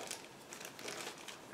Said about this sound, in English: I need a second to open plastic bag.